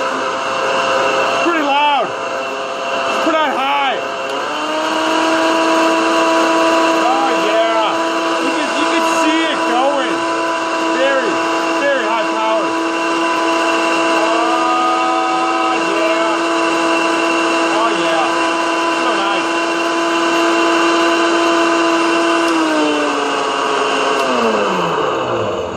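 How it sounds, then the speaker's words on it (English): A powerful high-power blender blending a fruit shake whirs loudly for over twenty seconds, its motor pitch shifting as the contents churn, then winding down at the end. "Throw on the lid and blend. And it's such a high power blender."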